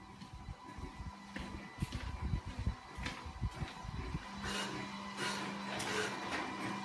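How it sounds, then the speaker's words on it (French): A photo minilab printer prints photos, giving a quiet mechanical run of clicks, rattles and soft whirring, with a low steady hum entering partway through; no one speaks. "l'imprimante elle est déjà en train d'imprimer"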